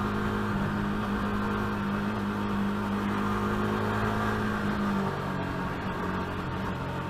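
A KTM RC 390 motorcycle pulls hard at open throttle in traffic, its engine note a sustained droning whine with steady tonal buzz and wind rush, fairly loud and continuous throughout.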